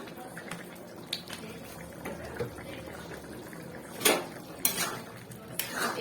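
Bora posto simmering in a pot with mustard oil is stirred. Metal clinks and scrapes against the pan sound over a low bubbling background, with a few louder knocks toward the end.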